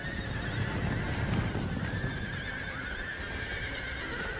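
Hussar cavalry horses charge in the video game Imperial Splendour, with whinnies and a dense clatter of hooves forming a steady, fairly faint battle din and no talk.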